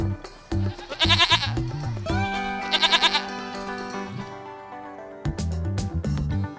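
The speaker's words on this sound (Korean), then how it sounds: "goat, 염소" A goat bleats twice over bright, bouncy children's background music, each wavering cry clear and near, followed by short plucky musical hits.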